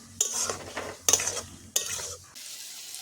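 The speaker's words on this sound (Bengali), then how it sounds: "অল্প অল্প করে জল দিয়ে কষাবো।" A spice paste is stirred in a pan with a little water for a Bengali banana-flower curry, giving three distinct scraping, sizzling bursts separated by short pauses, close and fairly loud with no talking.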